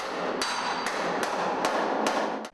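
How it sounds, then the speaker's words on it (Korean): Hammers pounding steel plates inside a cramped shipping container under repair, six loud ringing metallic strikes at a steady rhythm over a dense, reverberant din, close and harsh. "철판을 두드리며 발생하는 엄청난 소음 때문에 의사소통은"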